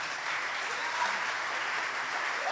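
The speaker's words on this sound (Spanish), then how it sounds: "Alguien dele un aplauso a Jesús." A church congregation gives a sustained round of applause during a sermon, a dense even clapping wash that stays steady throughout.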